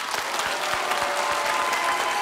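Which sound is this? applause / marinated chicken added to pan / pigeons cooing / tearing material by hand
applause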